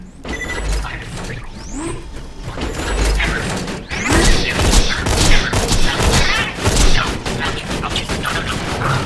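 An automated sentry turret deploys in Borderlands 2: mechanical clanks and whirring servo sweeps, then rapid bursts of turret fire and clattering shots grow louder and continue amid combat noise.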